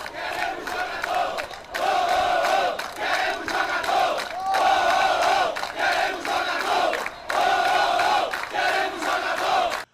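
Sampaio Corrêa football fans in a stadium crowd voice their displeasure after a lost match, a loud, continuous roar of shouting and chanting that swells and dips in waves across the whole stretch.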